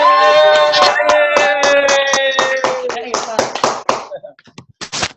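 Group clapping in rhythm on a Zoom training call, sharp repeated claps mixed with voices chanting over a sustained musical tone, the clapping turning sparse and scattered as it winds down.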